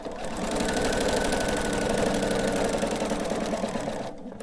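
Sewing machine quilting along a chalk-drawn line on a rock candy quilt, running in one steady, continuous mechanical whir of rapid stitching from start to finish, close up and unaccompanied by speech.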